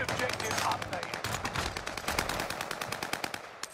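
Call of Duty Warzone gunfire: rapid automatic bursts of sharp shots rattling in quick succession, loud and close, the firing dense at first and then continuing as a steady stream, with faint game voices mixed in.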